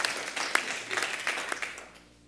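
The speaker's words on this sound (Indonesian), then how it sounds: "Tepuk tangan dulu buat Tuhan Allah kita" A church congregation bursts into clapping during a Sunday service, a fairly faint patter of many hands with a few sharper claps, fading away after about two seconds.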